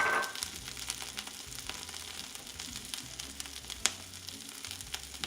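Brussels sprouts fry with a steady, close sizzle and crackle in a pan, sweetened and seasoned with salt and pepper and left to brown golden, with occasional sharper pops and no voices.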